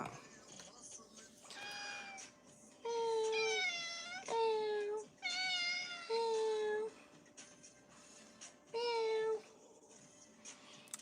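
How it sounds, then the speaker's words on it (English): A pet cat meows in several drawn-out, rising and falling calls, close and fairly loud, with short pauses between them and a quiet room behind. "Me and my cat have meow battles."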